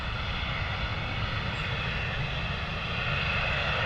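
An Embraer E190 airliner taxis at London Stansted Airport, its engines giving a steady, continuous roar that holds at an even loudness from start to finish, with no voices.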